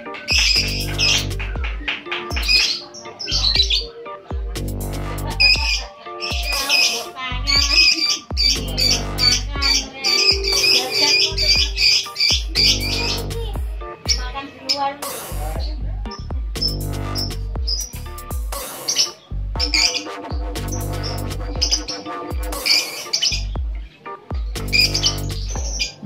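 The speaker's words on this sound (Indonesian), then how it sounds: "menikmati kicauan lovebird di markasnya Toa SF ya" Lovebirds at a bird-keeping base in Wonosari, Gunung Kidul, chirp and sing in a dense, busy chorus of shrill squawks, trills and tweets. The calls are close, loud and continuous throughout.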